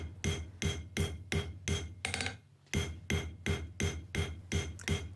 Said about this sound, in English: Just how much faster it is to forge over the horn.